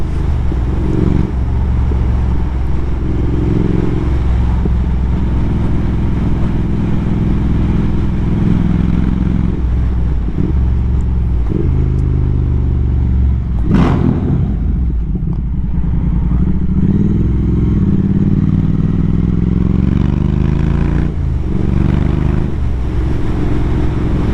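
A Triumph Speed Twin 1200 motorcycle engine roars loudly while riding, a steady close rumble with rising and falling revs and one sharp burst midway.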